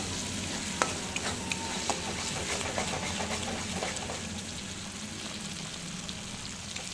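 Masala being sautéed in refined white oil for butter chicken, stirred in the pan over a low flame, gives a steady close sizzle with occasional sharp scrapes and clicks of the spoon, heard alone without talk.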